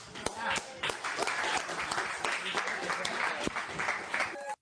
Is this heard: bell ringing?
no